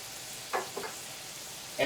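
Radishes, ginger and basil sautéing in butter give a steady, soft sizzle, broken by a few brief stirring bursts close by, with no one talking.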